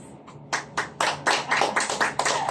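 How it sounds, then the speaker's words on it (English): Brief audience applause during a stem cell product presentation, starting with a few separate claps and swelling into a denser, quick burst of clapping nearby. "So, it deserves a round of applause."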